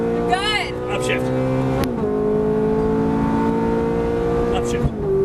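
A Ferrari F430 engine in a racing video game revs hard and climbs steadily in pitch, then shifts and pulls again, loud and close. A voice talks over the engine note.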